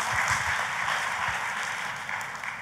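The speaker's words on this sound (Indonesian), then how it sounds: "Tepuk tangannya yang paling meriah buat Tuhan kita" A church congregation applauds during a Sunday sermon, a steady wash of clapping from many hands that fills the room, moderately loud and even throughout, with no voices on top.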